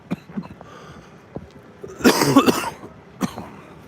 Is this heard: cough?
yes